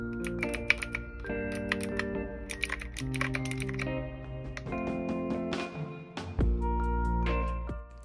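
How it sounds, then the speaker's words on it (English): A series of crisp button clicks and taps in irregular bursts, close up, with short pauses between groups. "I love the clicking sound that they make"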